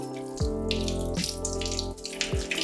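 Tap water running steadily into a sink while hands are rinsed during a surgical scrub, a continuous splashing stream with a few shifts as the flow is disturbed, with no talk.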